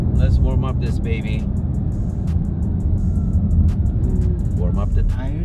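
A V6 sports car engine warming up on a morning drive, producing a deep, steady low rumble at idle that continues throughout while people talk over it.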